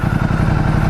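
A Ducati Multistrada 1200S motorcycle engine runs close and loud, a steady pulsing low rumble with a rapid, even firing rhythm throughout the short burst.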